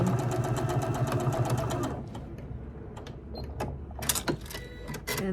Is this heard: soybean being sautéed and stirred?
no